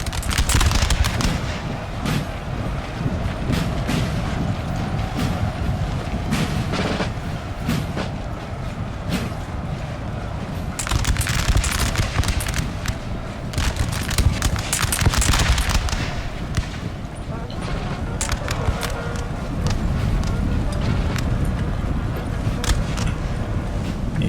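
Dense musket and cannon fire from a Napoleon: Total War battle, a continuous loud barrage of overlapping volleys and booms that swells and fades in waves with no let-up.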